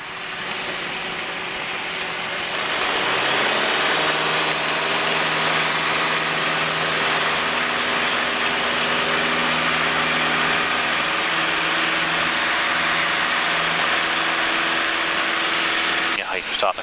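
A light training aircraft's piston engine roars up to full power for the takeoff run after carb heat and flaps are set, rising within a few seconds to a loud, steady drone with a strong propeller hum that holds to the end.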